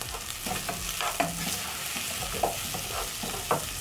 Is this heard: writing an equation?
no